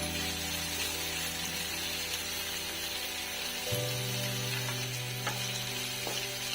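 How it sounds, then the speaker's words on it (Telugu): Onions frying with ginger garlic paste for an egg curry, a steady, close sizzle with a few stirring knocks, a low hum running underneath, and no voices. "అల్లం వెల్లుల్లి పేస్ట్ కూడా పచ్చివాసన పోయేంత వరకు ఆనియన్స్తో పాటు ఫ్రై అవుతూ ఉండాలి"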